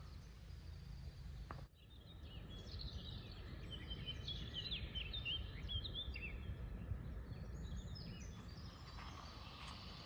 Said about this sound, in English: all you can hear is the chatter of millions of birds